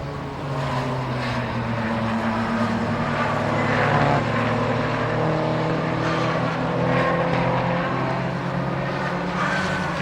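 Race cars in a Britcar endurance race at Silverstone roar past steadily, several engines overlapping in a loud, continuous drone with rising and falling pitch and no talking.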